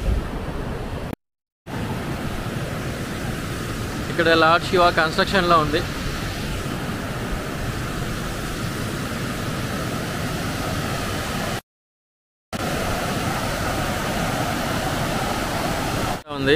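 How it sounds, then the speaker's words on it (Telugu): A waterfall at Lingamala roars steadily throughout, a dense broadband rush, with a voice speaking briefly over it partway through. "లింగమల వాటర్ ఫాల్స్ యాక్చువల్గా ఇలా ఉంటుంది."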